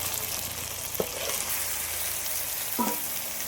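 Marinated goat meat frying in oily spice paste in a pan gives a soft, steady sizzle, broken by two brief scraping stirs, one near the start and one later.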